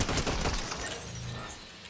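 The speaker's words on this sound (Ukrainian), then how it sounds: "Сейчас хтось стріляє, пацани." A dense burst of rapid gunfire in Fortnite crackles and rattles, fading into a noisy wash, loud and chaotic like a game battle.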